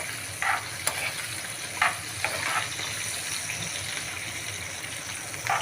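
Dried fish sizzles steadily in a little oil in a pan, a continuous close hiss with a few brief louder crackles and spatters, no talking.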